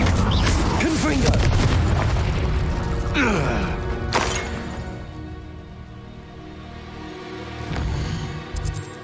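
A Confringo fire spell bursting in Hogwarts Legacy, heavy booming explosions and crashing impacts layered over dense game effects and rumble, loud and close across several seconds.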